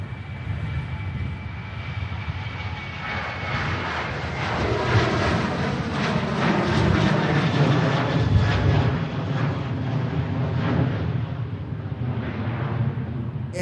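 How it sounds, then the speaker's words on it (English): A Ryanair airliner departs Manchester Airport for Prague, its jet engines building into a loud, sustained roar with a broad rumbling wash that swells and holds through the clip, heard at a distance across the airfield. "Aircraft now to Prague."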